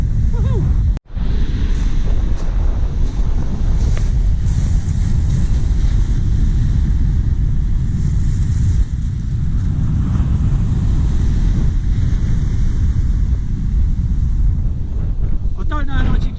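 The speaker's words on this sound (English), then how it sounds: "that wind is bloody strong" Strong wind blowing across a North Norfolk beach at Cley, loud continuous buffeting and rumbling against the microphone for the whole stretch, with a brief dropout near the start.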